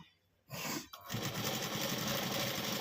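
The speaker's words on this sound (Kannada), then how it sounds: "ಫಸ್ಟ್ ಇದೊಂದು ಹೊಲಿಗೆ ಹಾಕೊಂಬಿಡಿ ಈ ರೀತಿ" A sewing machine stitches a side zip onto a lehenga, starting up after a brief quiet moment and then running steadily and fairly close, with a short hitch about a second in.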